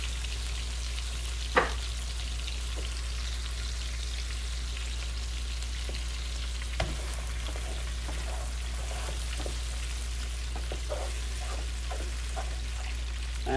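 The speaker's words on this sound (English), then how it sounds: "You're continuously butter basting these lamb chops." Butter sizzles softly in a pan on low heat while lamb chops are basted, a steady fine crackle with occasional louder spoon clinks and pops, no talking.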